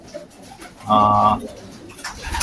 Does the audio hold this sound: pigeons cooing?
yes